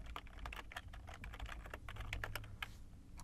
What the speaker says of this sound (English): Type in your email here